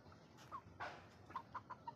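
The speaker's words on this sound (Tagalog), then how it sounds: "yan yung mga manok natin" Several short chicken clucks in a quiet setting, some birds suffering from colds, spaced irregularly, with one louder squawk partway through.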